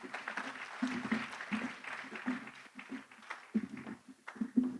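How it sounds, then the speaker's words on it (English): Light applause from a conference audience after a panel at a trade fair, uneven scattered claps mixed with faint murmuring voices, moderately quiet and steady for several seconds. "Another round of applause for them"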